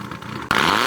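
Exhaust of a 2006 Mazda MX-5 Miata on launch control, heard from outside: a steady held engine drone that jumps abruptly to a louder, brighter roar halfway through and stays there.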